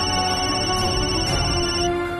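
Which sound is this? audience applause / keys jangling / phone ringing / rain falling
phone ringing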